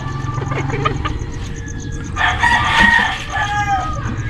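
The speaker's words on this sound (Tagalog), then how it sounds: "sea bright chicken kakaiba yung itsura nila" A Sebright chicken crows loud and close, one drawn-out cock-a-doodle-doo in the middle, over a constant low hum and background clucking, with a voice speaking faintly at the start.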